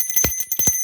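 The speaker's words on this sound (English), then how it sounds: "Where's my little bell?" A small bell rings in a few quick, bright strikes, close and clear, each chime short and ringing.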